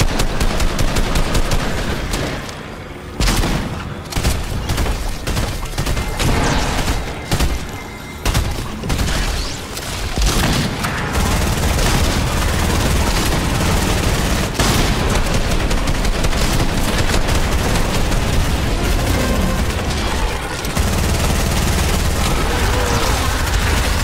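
Heavy gunfire and explosions in the video game Fortnite, sustained loud automatic shooting with booming blasts and only brief lulls.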